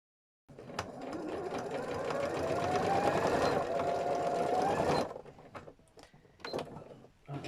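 A sewing machine runs a zigzag stitch around a felt embellished piece, a close, steady mechanical whir and rapid needle clatter for about four and a half seconds before stopping, followed by faint handling sounds.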